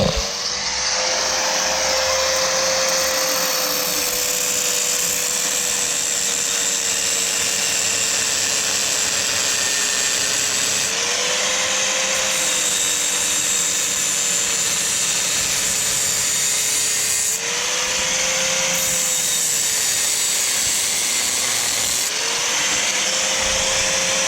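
A power grinder cuts into the seized bottom lug of the exhaust flapper valve on a BMW R1200GS, whining loudly and steadily for over twenty seconds, its pitch dipping and recovering under load with no talking.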